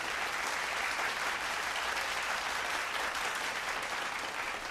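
Steady, dense applause rises from a church congregation, many hands clapping together without pause at an even level throughout.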